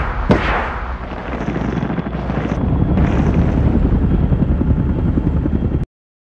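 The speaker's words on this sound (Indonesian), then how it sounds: "Kemudian mereka mulai menembak ke arah bola, namun sama sekali tidak memberikan dampak apapun" Soldiers fire at a black sphere in a film scene: a sharp loud shot bursts out early, followed by a sustained roaring, rattling wash of heavy gunfire and rotor-like rumble that continues until it cuts off abruptly.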